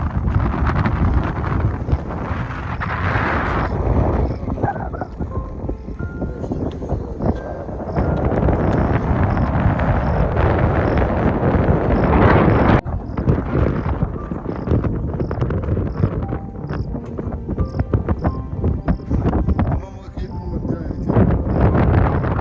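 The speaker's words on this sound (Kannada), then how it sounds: "ಆ್ಯಂಡ್ ಸಿಕ್ಕಾಪಟ್ಟೆ ಗಾಳಿ ಇತ್ತು." Strong wind buffets the microphone at a sunset viewpoint on a family trip to Chikkamagaluru, a loud continuous roar with gusty surges throughout, voices faintly mixed in.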